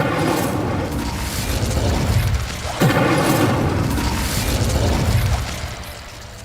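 The Incendio fire spell in Hogwarts Legacy goes off as a loud, dense burst of roaring flame, with a sharp crackling pop midway, then fades out near the end.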